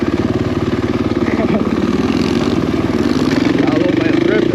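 Dirt bike engine on a steep hill climb, the rider working the clutch for grip; a steady, loud mid-pitched drone with a rising rev toward the end, with voices over the engine.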